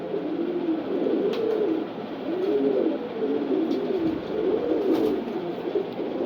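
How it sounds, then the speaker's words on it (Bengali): Racing pigeons of a foreign bloodline cooing close by in a loft, a loud, continuous run of low, rolling coos that repeat in overlapping waves with no speech. "এটা বিদেশি ব্লাড লাইনের কবুতর।"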